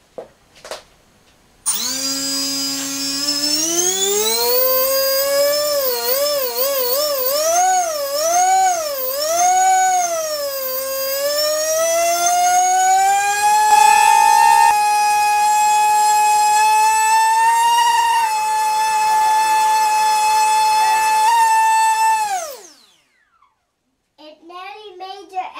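A SunnySky 2207 2100kv brushless motor on 6S, spinning 4x4.5 bullnose props in a shed, gives a loud, sustained, high-pitched whine lasting about twenty seconds. The pitch wavers and climbs with throttle changes, then cuts off abruptly.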